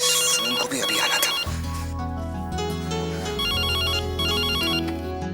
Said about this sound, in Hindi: नितिन फोन बज रहा है